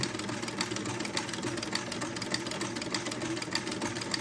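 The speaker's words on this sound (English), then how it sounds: "I can start sewing and make the next buttonhole" A vintage buttonhole maker attachment on a sewing machine stitches a buttonhole for an heirloom baby garment, giving a steady, fast mechanical whir and rhythmic clatter throughout with no talking.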